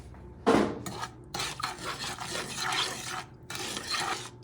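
A spoon scrapes and stirs sugar and a little water in a metal pot for red bean paste, a series of close, gritty rasping strokes with short pauses between them.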